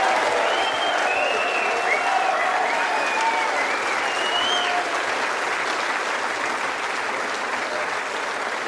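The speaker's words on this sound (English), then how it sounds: "may we have a round of applause for an absolutely brilliant final by" Sustained applause from a large audience fills the arena after a snooker final between two top players, steady and dense clapping with faint crowd murmur and occasional whistles throughout.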